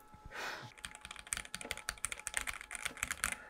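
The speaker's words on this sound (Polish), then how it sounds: "Typowa mechaniczna klawiatura." Rapid, uneven clatter of keys on an Asus mechanical keyboard, close and fairly loud, with crisp individual keystrokes following a brief soft breath at the start.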